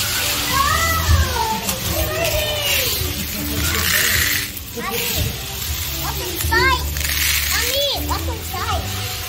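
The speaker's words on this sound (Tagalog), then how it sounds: "Pusa." A cat meowing with repeated rising and falling cries, several distinct meows spaced across the stretch, mixed with children's voices and play noise in the background.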